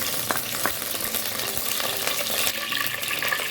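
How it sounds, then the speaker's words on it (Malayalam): Curry leaves hit hot oil in a pan and sizzle loudly, a dense, steady frying crackle with scattered sharp pops, close up and continuous, without voices. "ഓയിൽ ചൂടായി വരുമ്പോൾ കുറച്ച് കറിവേപ്പില ഇട്ട് കൊടുക്കാം."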